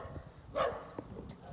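A puppy gives a single short, fairly close bark over a low background hum.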